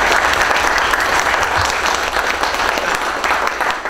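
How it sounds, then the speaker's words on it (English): Steady, dense applause from a conference audience at a tech talk on Google and open source software, loud and sustained without a break. "I think everyone ought to give yourselves a round of applause for that"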